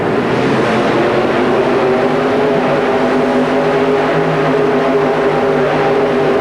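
A 4WD pulling truck called 'Back in Time', built in 1940, roars at high revs with its wheels spinning during a 1991 truck pull at the Pontiac Silverdome, a loud, steady, dense engine drone throughout.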